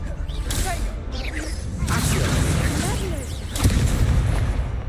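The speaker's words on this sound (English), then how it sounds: "इंसेंडियो मारूंगा इनके 5 बार" Incendio fire spells cast in the video game Hogwarts Legacy, several loud whooshing bursts and booming impacts over a dense rumbling bed of combat effects.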